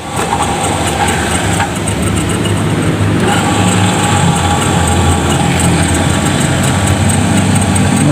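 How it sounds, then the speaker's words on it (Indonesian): A Shimizu electric water pump motor, previously dead and repaired, runs steadily with no load, giving a loud, continuous hum and whir with constant vibration and no variation in pitch. "Mesin hidup tanpa beban"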